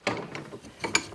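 Dry spindle bearings on an older MTD riding mower deck turning by hand, giving a close, uneven grinding and ratcheting rasp with several louder scraping bursts over about a second.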